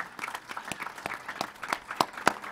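At a solidarity event for the Palestinian people, an audience claps in scattered, uneven bursts with some sharper individual claps. The applause is moderately loud with a little background crowd murmur.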